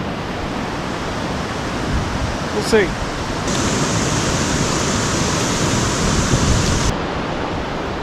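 Water rushing over a dam on the Wisconsin River, a steady broadband roar filling the whole clip, with a brief voice speaking partway through.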